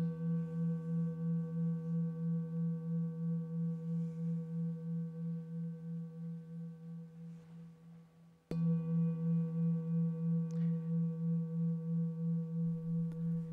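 A Tibetan singing bowl rings with a sustained layered hum and a slow pulsing beat, fading gradually before a fresh strike renews the full resonant tone, close and calm with no voices.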